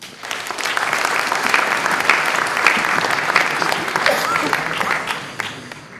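A live audience at a French literary prize event claps steadily for an author, a dense, sustained burst of applause that holds evenly for several seconds before tapering slightly at the end.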